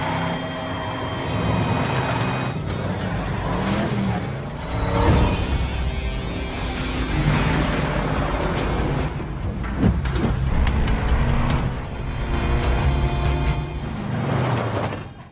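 Car engine in a film car chase, a loud, roaring vehicle drone rising and falling in waves with whooshes and rumbles, heard up close throughout with no speech.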